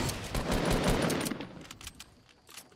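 Fortnite gunfire rattles in dense, rapid automatic bursts, loud and close at first, then thins into scattered sharp single shots that fade further away, with no talking over it.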